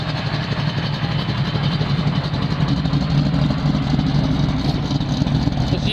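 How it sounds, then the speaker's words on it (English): Exhaust of a 1969 Camaro Z28 tribute engine idling steadily at the rear of the car, a continuous low, throbbing rumble with an even cylinder pulse throughout, close and loud with no talking. "We go around the back, you listen to that exhaust."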